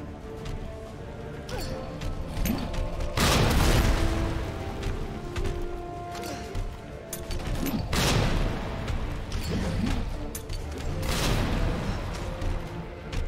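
Grenade blasts in the Resident Evil 2 Remake video game, two or three heavy, close booms a few seconds apart over a steady rumbling background, with gunfire-like crackle between them.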